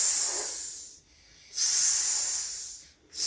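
A voice imitates a snake's hiss with two long, sustained S sounds, close and fairly loud, separated by a brief breath.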